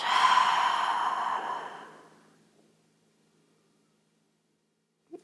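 One long, breathy exhale during a yoga session, close and soft, fading gradually into silence, followed by a tiny faint click at the end.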